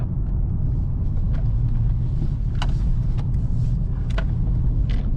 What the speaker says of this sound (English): Wow, that was really amazing, how this car can steer and change directions.